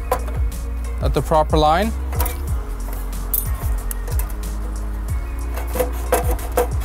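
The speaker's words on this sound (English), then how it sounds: "What we do is we just take our snips, we just notch it in" Tin snips notch the inside corner of a Nasser two-step gutter, giving a series of short metallic clicks and scraping cuts close by, while someone talks over the work.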